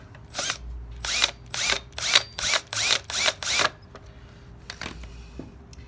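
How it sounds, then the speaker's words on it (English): An electric screwdriver works screws on a Razor E100 electric scooter, running in a string of about seven short whirring bursts with brief gaps, close and fairly loud, followed by a couple of fainter clicks. "Okay, I'll use my screwdriver."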